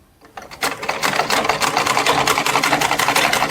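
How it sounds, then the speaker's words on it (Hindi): Sewing machine stitching cloth for Laddu Gopal deity clothes, starting after a brief pause and then running steadily with a fast, even mechanical chatter, close and loud, with no talking. "अब हमें यहाँ से इस पे सिलाई लगानी है, बिल्कुल इसी निशान के बिल्कुल पास से लगानी है"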